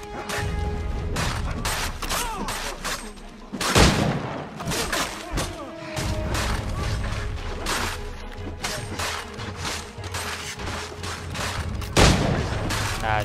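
Gunfire from the video game Assassin's Creed 3, a dense sequence of sharp shots and heavier booming blasts amid battle clatter, with two louder reports standing out.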